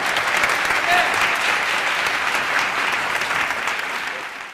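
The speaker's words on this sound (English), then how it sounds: "Let's give our 2009 phenomenal men a big round of applause, all of them." Audience applause at an awards event honoring men, dense steady clapping from a large crowd that fills the whole stretch and fades slightly near the end.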